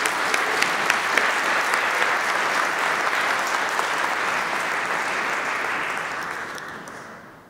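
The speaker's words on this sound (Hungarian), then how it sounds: "nekik is jár egy taps" Steady, dense applause from a concert audience after a Palm Sunday organ concert of film music, sustained and full for several seconds before tapering off at the end.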